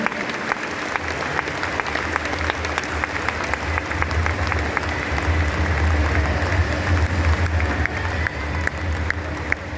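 Audience applause at an RCM zonal celebration in Kolkata, continuous clapping from a large crowd with sharp individual claps poking through, steady and moderately loud throughout, with a low hum underneath.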